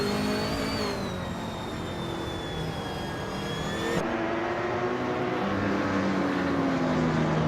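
Race cars, including Peugeot 908s and Audi R8s, accelerate on a track in a racing video game, a steady loud engine roar with rising and falling whine, a second engine note cutting in midway, no voices.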